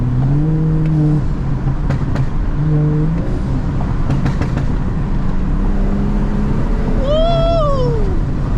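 A turbocharged stage 2+ BMW 435i revs in GTA 5 RP, its engine tones rising and falling in a loud, steady drone with a sharp upward sweep near the end.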